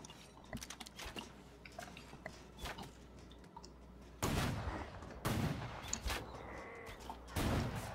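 Gunfire in the video game The Culling: scattered faint clicks and taps, then several loud, sharp bursts of shots breaking out in the second half against a quiet background.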